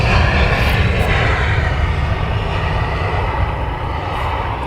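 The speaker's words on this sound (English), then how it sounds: "We will finish on the Qatar 747. Fingers crossed it does land on this runway." Qatar Airways Boeing 747 landing at Schiphol, heard as a steady, loud broadband jet roar that fades slightly over the span, with no voices.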